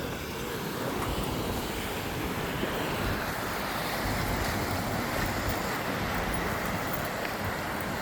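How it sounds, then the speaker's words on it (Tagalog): Flood water after heavy rain sloshes and rushes in a continuous, loud wash, with wind buffeting the microphone and no talk. "baha mga bossing, lulusong tayo sa baha"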